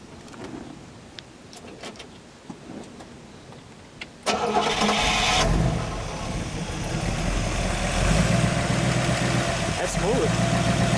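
A 1962 Chevrolet Corvette convertible engine cranks and catches, then settles into a steady, rumbling idle. A few faint clicks and light movement come before it starts.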